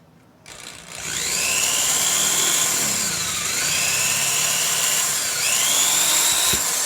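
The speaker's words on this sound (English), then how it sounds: "so I've put my drill bit on, and what I'm going to do is I'm just going to gently drill" A small power drill whines steadily up close, its pitch sliding up and down as the bit bites into a plastic Funko Pop figure and eases off.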